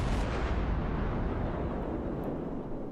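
Naval gunfire from an enemy ship in the World of Warships video game, a single heavy boom that lands loud and close and rolls off in a long rumbling decay.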